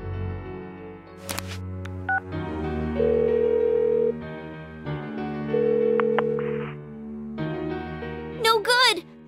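Phone dialing in the video game Persona 4 Golden: bursts of keypad tones and a long held ringing tone, then a second dialing pass, over steady game music, ending in a short burst of bright chirps.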